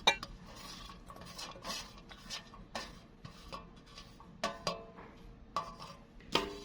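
Mango slices, chopped onion and chilies are tossed together in a bowl, giving irregular clinks and knocks of a spoon against the dish at a moderate pace, close and fairly quiet with no talking.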